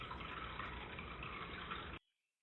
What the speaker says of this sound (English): It's coming right down, flowing and trickling.